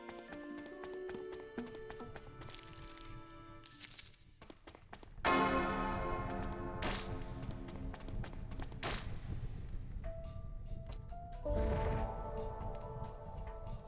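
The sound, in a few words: bell being hit in a video game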